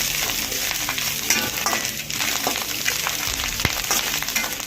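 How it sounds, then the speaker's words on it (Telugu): Chili powder, garam masala and noodle masala frying in a pan for street-style egg noodles, a steady bright sizzle broken by scraping stir strokes and occasional sharp clicks, close and continuous. "కొంచెం కారం, గరం మసాలా, నూడిల్స్ మసాలా, కారం వేయించుకొని వేపుకుందామండి."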